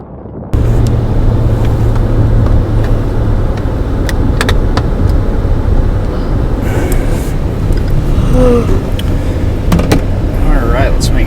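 Steady loud road rumble from a truck cruising on the freeway in traffic, a continuous low engine and tire drone with brief clicks and rattles over it.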